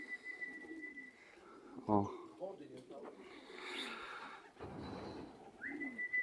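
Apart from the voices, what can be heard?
racing pigeons arriving at the loft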